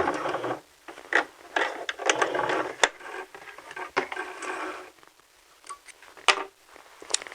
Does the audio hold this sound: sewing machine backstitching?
yes